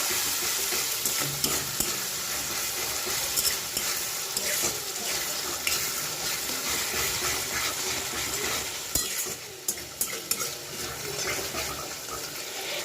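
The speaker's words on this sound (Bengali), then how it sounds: "এবার এটাকেও আমি একটু নাড়িয়ে নেব, ভালো করে মিশিয়ে নেব।" Salt, sugar and turmeric get stirred into spices frying in oil for kaju katla, a continuous close sizzle with scraping strokes and occasional clinks throughout.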